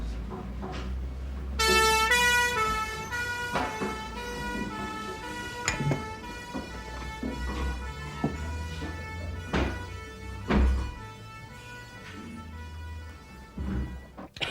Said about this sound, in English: Ambulance is here